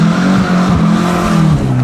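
A Ford TX5 Turbo in sport mode accelerates hard from inside the car, its engine droning loud and steady with rising and dipping pitch through gear changes.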